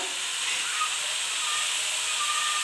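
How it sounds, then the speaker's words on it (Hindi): Cauliflower and meat frying in a pan for a gobhi gosht curry, giving a steady, even sizzle and hiss that holds constant throughout with no talking. "अब मैं इसको अच्छे तरीके से 10 से 15 मिनट के लिए भूनूंगी"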